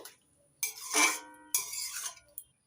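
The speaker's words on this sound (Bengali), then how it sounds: "এবার ঢাকনা তুলে নিচ্ছি।" A metal lid lifted off a cooking pot of steamed vegetables for sambar dal, giving two bright clanking scrapes in quick succession and then a small final clink, close and clear with no voices.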